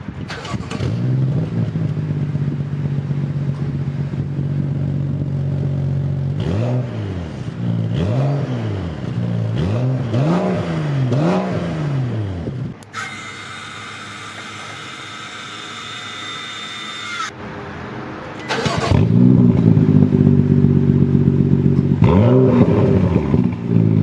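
A car exhaust with an open exhaust cutout valve roars loudly through repeated revs that rise and fall, goes quieter behind a hiss for a few seconds, then returns with a deeper, louder, steadier roar.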